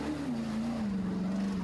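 A Chevrolet 454 big-block V8 4x4 in a mud-course off-road challenge gives a steady, loud engine drone whose pitch dips slightly as it idles and revs through the mud, with no voices.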